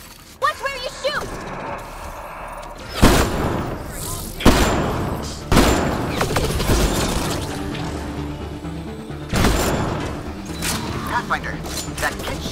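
Gunfire and mechanical clatter in Mass Effect: Andromeda come as several loud, sharp bursts spaced a second or two apart in a tight interior, with voices talking between them.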